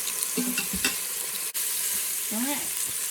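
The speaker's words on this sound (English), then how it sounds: "I'm only searing them half at a time to make sure that they do get that kind of crunch that they need." Pork pieces sear in a hot pan, giving a steady, close sizzle with a few brief scraping and stirring clatters over it.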